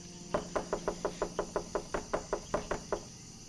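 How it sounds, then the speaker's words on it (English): In the video game Norco, someone knocks on a door with about fourteen steady, evenly paced raps, moderately loud over a constant background hum. "Knock again, just keep knocking."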